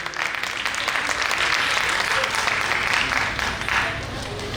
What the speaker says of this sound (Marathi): संध्यासाठी जरा जोरदार टाळ्या वाजवा बरं.